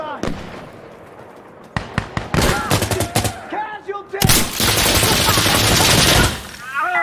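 Gunfire in Insurgency Sandstorm: sharp close shots crack in quick bursts, then a sustained loud volley roars for about two seconds, with a voice talking in between.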